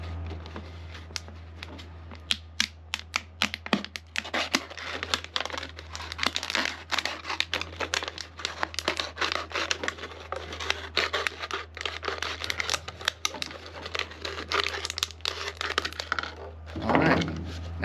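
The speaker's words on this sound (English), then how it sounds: "You want to start cutting about a 1/2 inch down from where the bottle straightens out." A sharp knife cuts through a plastic bottle for a homemade wasp trap, making a long run of close, crisp crackling and crinkling clicks, followed by a brief rustle at the end.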